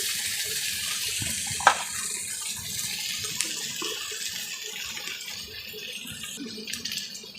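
Water goes into a pan of prawn and green fig curry with a faint, steady pouring hiss that runs throughout, broken by a soft knock or two.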